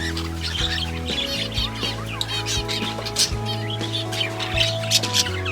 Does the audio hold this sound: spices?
no